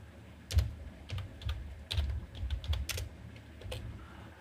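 Keys on a computer keyboard clack in irregular bursts as text is typed in graphic design software, close and crisp against a quiet room.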